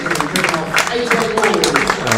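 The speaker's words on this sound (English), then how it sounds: "Applause for Rocky Flintoff" A cricket crowd applauds a batsman reaching his century in an England Under-19 match, a broad wash of clapping behind steady commentary.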